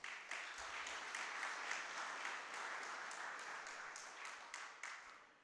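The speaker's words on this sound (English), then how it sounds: "Give him another round of applause" A lecture audience gives a steady round of applause, dense overlapping claps sustained for several seconds at moderate distance, tapering slightly toward the end.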